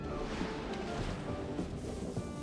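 Water sloshes and drips in a steady, dense wash over the front of a camera bubble in the Sky Garden level of Astro Bot on PS5, with no talk over it.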